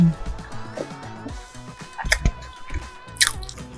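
Close, wet chewing and biting of food with mayonnaise, soup and ham, a steady run of squishy crunches recorded near the mouth, with no talking.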